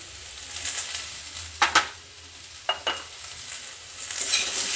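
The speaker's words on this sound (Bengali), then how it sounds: "এখন আমি খানিকটা নাড়াচাড়া করে ভালো করে ভেজে নিয়ে তারপরে আমি হলুদ দেব" Apple and jujube chutney with salt frying in a pan, a soft steady sizzle punctuated by a few sharp scraping strokes of a spoon stirring, close by and without talk.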